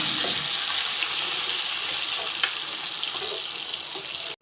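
Spice paste goes into a frying pan already holding cashews and raisins for a Bengali vegetarian pointed gourd curry, giving a steady, close broadband sizzle throughout with faint scraping clicks and no talking.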